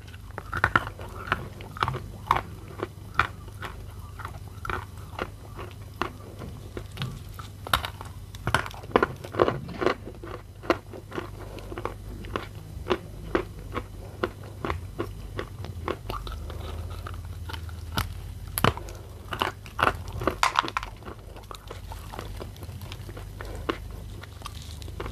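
Blue Uzbek chalk, moist and crunchy, bitten and chewed up close: a steady run of crisp, wet crunches and bites in an irregular rhythm lasting throughout, with no talking.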